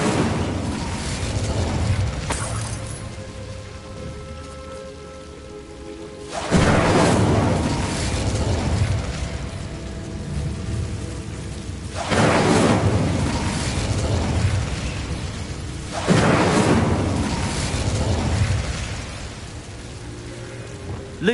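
Incendio fire spell blasts in Hogwarts Legacy: four loud, roaring bursts of flame land roughly every five seconds, each swelling into a sustained crackling rush before the next hits.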